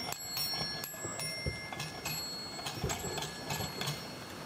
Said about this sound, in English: the feet really flap and they walk, and as they do, the bell rings